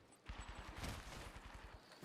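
Distant gunfire crackles in an Apex Legends match, a faint, rapid string of repeated shots rattling in a steady rhythm for about two seconds.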